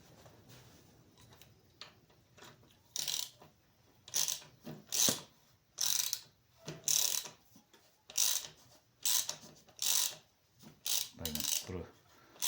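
Hand tap cutting threads into a drain fitting, giving a series of short scraping, ratcheting bursts at an uneven rhythm, close and fairly loud, with brief pauses between turns.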